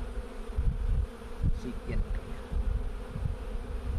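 Honeybees swarm around an open hive with frames of brood, pollen and honey, a dense continuous low buzzing close by, with a brief spoken word over it.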